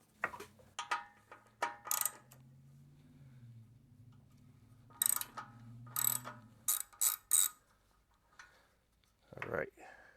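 A hand ratchet clicks through several bursts of quick pawl clicks while removing a T40 fastener on a Harley-Davidson Pan America during a clutch install, with a low motor hum and someone talking between the bursts.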